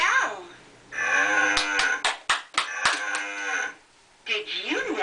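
A Leap Frog Fridge Farm toy cow plays an electronic moo with a tonal sung phrase, loud and close, broken by clicks as pieces are pressed, while a child and adult murmur around it.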